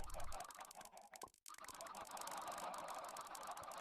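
Chickens cluck in Minecraft, a busy run of short clucks and rustling sounds that is briefly cut by a moment of silence and then resumes at a steady, moderate level.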